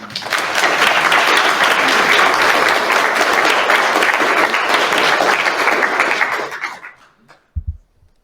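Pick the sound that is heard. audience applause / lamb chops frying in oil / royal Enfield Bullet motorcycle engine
audience applause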